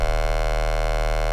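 A sustained, buzzy distorted synth bass tone built from two sine waves, one synced, unprocessed, holding steady and loud, thick with harsh harmonics and a slight pulsing edge, playing alone.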